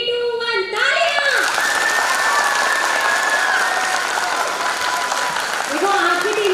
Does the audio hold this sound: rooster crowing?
no